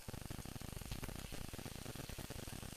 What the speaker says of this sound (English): putting a piece of chicken in, just one at a time or a couple at a time, and get that sizzle going